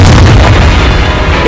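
A Confringo spell explosion in Hogwarts Legacy, fighting giant spiders and forest trolls: a loud, deep boom that fills the short moment with heavy low rumble, with no voices over it.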